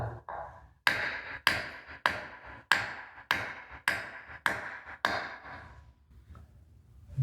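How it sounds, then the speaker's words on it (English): Eight sharp, ringing hammer blows strike metal in a steady rhythm as a trailer wheel bearing is driven into place, close and loud, each decaying quickly before the next. "you'll be able to feel it when you hit it with the hammer"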